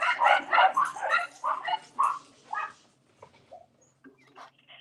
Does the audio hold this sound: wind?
no